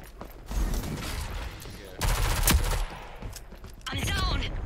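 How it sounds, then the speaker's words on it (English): Gunfire in the video game Rogue Company: bursts of rapid shots and mechanical clicks, loud and close, in short clusters with brief gaps. "Who the fuck is shooting at me over here?"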